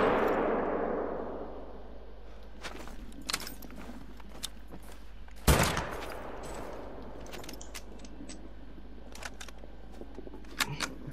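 Gunfire from a video game hunting a pack of wolves, a few sharp isolated shots spaced irregularly, one much louder crack in the middle, over a quiet low hum.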